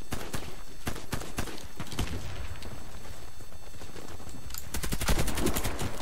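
Rapid gunfire from the online shooter Warface, Karkom map: dense bursts of automatic fire and sharp single shots crackling throughout, loudest near the end, with a faint voice underneath.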